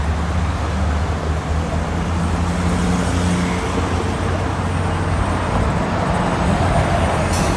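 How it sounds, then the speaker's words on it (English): A city bus and steady traffic roll past on Lakeshore Road in Mississauga, a dense close roadway rumble with engine drone swelling and fading, no voices over it. "That bus is going to Dixie Valley Mall."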